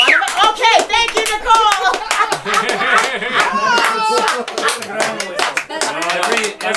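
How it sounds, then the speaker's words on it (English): Hand claps at a memorial gathering mixed with lively voices and chatter, with a bit of laughter, fairly close and busy throughout. "round of applause for Grandma and Grandpa"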